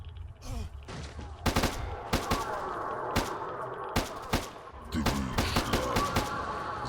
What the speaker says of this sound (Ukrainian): Там ще через стінку стріляють.